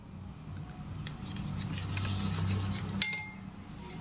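A knife saws the hard crusts off slices of bread, giving a soft, steady rasping scrape with a brief sharp clink near the end.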